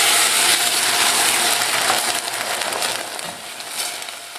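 Boiling liquid poured into a pan of browned, toasted quinoa, giving a loud, steady hiss and sizzle that gradually eases off over a few seconds, with no talking.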